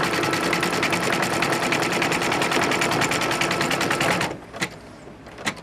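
An embroidery machine stitches fabric in a rapid, steady mechanical rattle, loud and close, then stops abruptly, leaving a few faint clicks.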